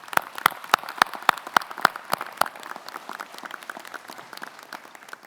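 Applause at a university graduation ceremony in Manawatū: a large audience claps, with a few sharp, loud claps up front at first, then a dense, steady patter of many hands that softens toward the end.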